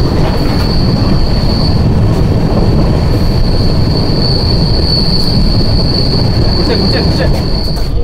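A Rajdhani Express running on rails in a 2AC coach, from Mizoram toward West Bengal: a loud, steady rumble of wheels and carriage with a thin, sustained squeal above it, continuous for the whole stretch with no talking.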